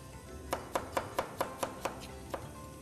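Potatoes being chopped with a knife for a Turkish potato tray börek, about nine crisp, evenly spaced knife strikes on a board, close and clear with no talk.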